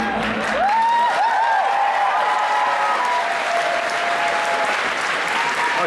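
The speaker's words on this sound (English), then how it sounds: "Big round of applause, come on." A convention crowd applauds at the Kitacon 2012 opening ceremony after a video, with dense, steady clapping and a few brief whistles near the start, loud and continuous throughout.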